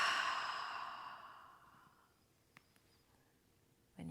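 A yoga student takes a long, deep breath during a yin class, a soft airy exhale that fades away over about two seconds, followed by near silence, a couple of faint clicks and the start of another breath.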